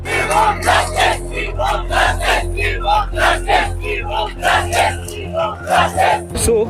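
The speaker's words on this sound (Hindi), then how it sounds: "आज के दिन तो काफी भीड़ है।" A large street protest crowd fills the scene with continuous, loud overlapping voices and rhythmic chanting or shouting, a steady roar of many people close by, ending with a sharp burst.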